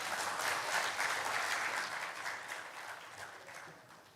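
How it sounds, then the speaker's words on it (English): Audience applause for a speaker at a tropical seaweed center event in Bali, a steady, dense clapping from a seated crowd that holds strong then slowly thins over about four seconds, with no talk over it. "please give a round of applause to Mr. Firman"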